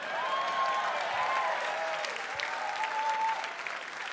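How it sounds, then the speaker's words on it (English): Audience applause fills a comedy club, steady and fairly loud clapping throughout with a few whoops and cheers rising over it. "how about one more round of applause for me"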